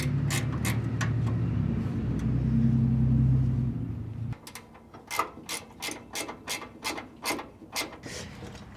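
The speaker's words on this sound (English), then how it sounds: "I'll be able to just fasten a nylock nut right there" A hand ratchet fastens a nylock nut on the AC condenser L-bracket of a Vintage Air system, with steady clicking strokes coming in rhythmic bursts after a stretch of engine-like hum, close and fairly loud.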